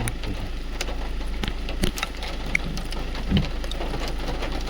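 Heavy rain falls steadily in a forest beside a national highway, a dense continuous hiss with occasional louder drips and knocks breaking through.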